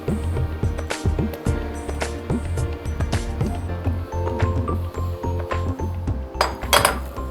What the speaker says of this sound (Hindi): इसमें हम डालेंगे रागी का ये आटा और इसको हम मिला लेंगे